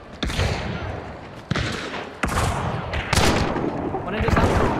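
Loud, sharp gunshots ring out in the video game Hunt: Showdown, several separate booming reports spaced about a second apart, each trailing into echo and clatter.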